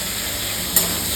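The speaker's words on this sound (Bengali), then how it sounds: "চিকেন ভাজা হচ্ছে" Chicken frying in a pan in a Bengali home kitchen, a steady close hiss and sizzle with a brief louder burst near the end, no voices.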